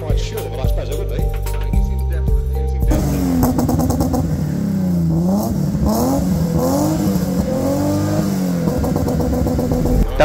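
A BMW E30 325i engine in an ice-white Baur cabriolet revs hard with launch control, holding at first and then giving a loud, close run of rising and falling revs over a rapid, popping rhythm.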